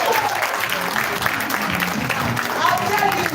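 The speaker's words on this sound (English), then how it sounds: "We need to clap for her again." An audience claps at a celebration marking a couple's 24 years together, producing a sustained burst of applause with voices mixed in throughout.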